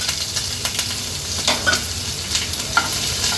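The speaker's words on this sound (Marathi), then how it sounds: "कांदा आणि कढीपत्त्याची पानं फोडणीला घालणार आहोत" Chopped onion and curry leaves hit hot oil in a tempering with asafoetida, mustard seeds and cumin, giving a close, continuous crackling sizzle with light stirring scrapes and no talk.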